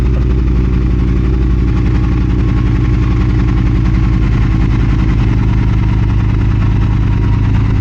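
A 2022 Triumph Speed Twin motorcycle with an aftermarket exhaust idles loudly at about 1050 RPM, a low, even rumble throughout, close by and without any revving.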